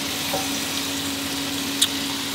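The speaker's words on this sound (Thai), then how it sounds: "ผัดไฟแรงต่ออีกครู่เดียวครับให้ทุกอย่างโดนความร้อนดีนะครับ" Spicy pork belly stir-fried over high heat in a pan gives a steady, close hiss of sizzling oil, with a faint clink partway through.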